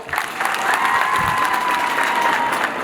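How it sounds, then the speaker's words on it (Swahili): A crowd at a Mashujaa Day celebration in Kisii County claps steadily for nearly three seconds, a dense, loud patter with a faint ringing tone running underneath. "Simpigie madam makofi."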